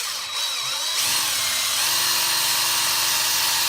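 A DeWalt power tool spins a motorcycle wheel during detailing and corrosion cleanup, giving a steady, loud whirring drone that rises after the first second and holds constant, with no talk.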